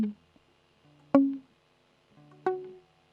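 Muted guitar notes, plucked one at a time as separate chord tones; three short, dry, damped plucks sound alone in a quiet room, each decaying quickly.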